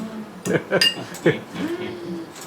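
Ginger being pounded by hand at home makes a few sharp knocking clinks in quick, uneven succession, close and clear, with a voice over part of it.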